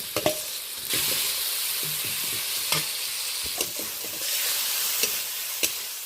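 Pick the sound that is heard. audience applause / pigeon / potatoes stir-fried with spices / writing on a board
potatoes stir-fried with spices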